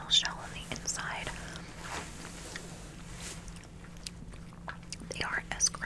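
Soft cream caramel treats from Japan are chewed close to the mic, wet squishy bites and mouth sounds repeating steadily, with quiet whispering mixed in.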